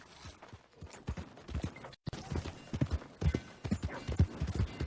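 Horse hooves clip-clop in Red Dead Redemption 2, a quiet, uneven run of hoofbeats that breaks off briefly midway, then resumes.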